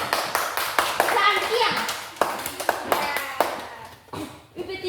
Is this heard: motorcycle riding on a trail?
no